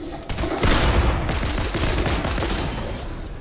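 Rapid gunfire in the video game Fortnite, a dense continuous burst of shots rattling loudly and close for several seconds with no talk over it.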